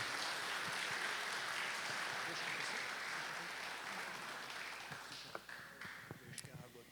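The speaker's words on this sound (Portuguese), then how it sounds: "Um salve de palmas" An audience at a speaking forum in Unaí applauds a speaker, a steady, fairly distant wash of clapping that gradually thins toward the end, with a few louder individual claps and murmured voices underneath.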